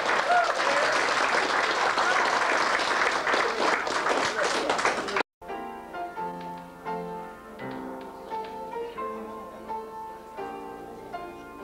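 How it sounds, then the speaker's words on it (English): A small round of applause from a concert audience in Boyle greets a singer's accompaniment, dense clapping for about five seconds before stopping abruptly as the music resumes. "small round of applause there for the accompaniment"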